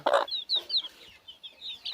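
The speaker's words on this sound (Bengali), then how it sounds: "মুরগির বাচ্চা" Clucks and chirps of young local chickens on a small farm, a loud cluck burst at the start followed by a series of quick high peeping calls close by.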